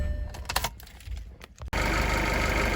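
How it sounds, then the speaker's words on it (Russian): A Great Wall Hover H5 4D20 engine, after an overhaul, starts abruptly following some faint clicks and rustling, then runs loudly and steadily with a rough, even drone. "Собственно, вот так у нас и работает двигатель"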